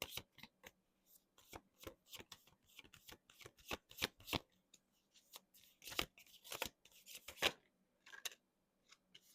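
Tarot cards being shuffled by hand in quick, close, crisp riffling bursts with short pauses, alone in a quiet room.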